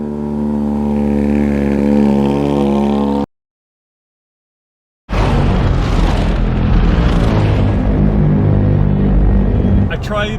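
A Porsche GT3 RS engine held on its pit speed limiter, a loud steady droning note that cuts out to silence, then returns as a rougher, harsher roar with revving texture to the end.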